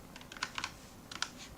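Quick bursts of computer keyboard typing, a few clustered keystrokes then a short pause and another cluster, faint and close with no voices.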